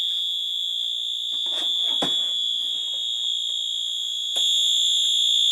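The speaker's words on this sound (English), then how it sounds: "Thank you, Jim, for the fire alarm" A Wheelock fire alarm sounds continuously with a loud, steady piercing tone, joined by a few sharp knocks and bangs partway through, and grows slightly louder near the end.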